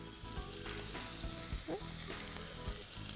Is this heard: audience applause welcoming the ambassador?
no